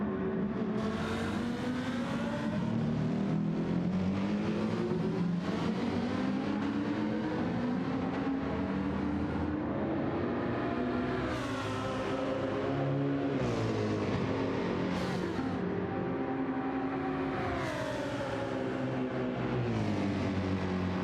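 Mercedes-AMG race car in the CrowdStrike livery from Gran Turismo 7, its engine droning and rising through continuous revs with brief dips as it lifts off, loud and steady for the whole stretch with no talking.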